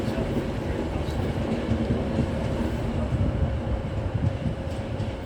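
A train rolls past close by, with a steady heavy rumble and clattering wheel noise that holds at a constant loud level from start to finish.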